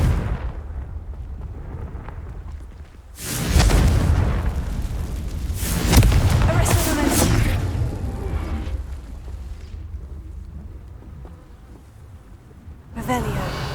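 Explosive bursts from the Confringo fire spell in the video game Hogwarts Legacy: a heavy booming blast, a second louder rumbling explosion soon after, and another sharp burst at the end, each over a low background hum.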